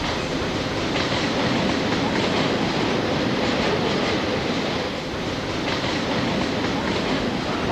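A passenger train in China runs with a steady, loud, dense rumble of wheels and carriage noise throughout, heard from inside the car with no talking.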